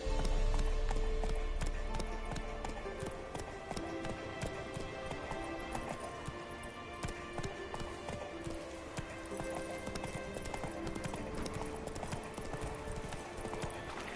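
Roach the horse gallops in The Witcher 3, with rapid rhythmic hoof clip-clops close by and a brief whinny, over game background sound.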